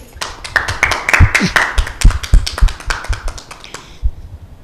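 A small group claps for a boy at a Children's Day gathering, giving a few seconds of quick, uneven, close claps that stop abruptly, with a faint voice underneath.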